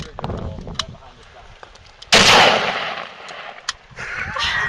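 A rifle firing one sharp, loud shot with a rolling outdoor echo, preceded by quieter handling sounds and a couple of faint clicks.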